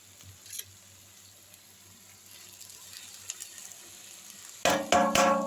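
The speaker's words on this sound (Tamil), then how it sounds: "இப்போ இந்த சாதத்தை எடுத்து கொட்டிக்கலாம்" Cooked rice is tipped into a pan of greens for a keerai mixed rice. A low quiet hum and faint rattles build toward a sudden loud rustling clatter near the end.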